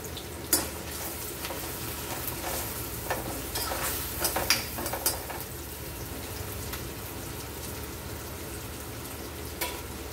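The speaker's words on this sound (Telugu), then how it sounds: "కొన్ని ఉల్లిగడ్డ ముక్కలు వేగడానికి, ఫ్రై అవ్వడానికి" Onion pieces with a pinch of turmeric sizzle steadily in a pan for a mutton curry, a constant close frying hiss broken by occasional clicks and scrapes of stirring.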